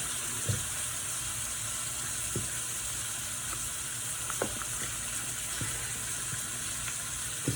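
Meat sizzles steadily in a hot pan, a continuous bright frying hiss with a few soft clicks and taps of utensils scattered through, no talking.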